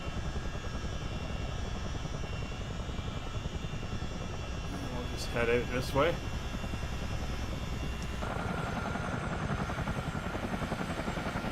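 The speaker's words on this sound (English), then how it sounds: "we're just going to steer the chopper out to the runway" A CH-47D Chinook helicopter in a flight game has its rotors and engine thrumming loud and constant throughout, while someone speaks briefly partway through and the engine tone rises toward the end.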